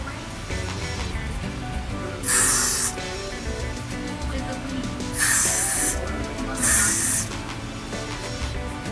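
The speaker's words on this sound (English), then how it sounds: "Now you're gonna get some Got To Be, and you're just gonna spray around the edges where you want it to lay down." Got2b hairspray hisses in three short bursts around the edges of a lace front wig, each spray sharp and close, separated by brief pauses over a quiet background.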